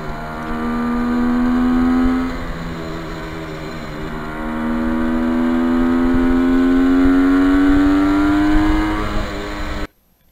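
A restored 1973 Kawasaki H1 motorcycle is ridden past with a steady, loud engine drone that climbs in pitch in two long pulls, then cuts off abruptly near the end.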